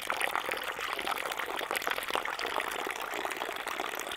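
Water pours steadily from a plastic water bottle, a close, continuous gurgling splash that lasts the whole few seconds with no talking.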